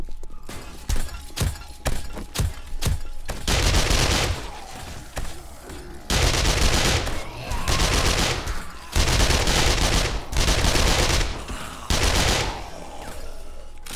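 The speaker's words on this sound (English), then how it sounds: "Who are you shooting at?" Gunfire in the video game 7 Days to Die: several sharp single shots at first, then loud sustained bursts of rapid automatic fire separated by short pauses, close and dominant.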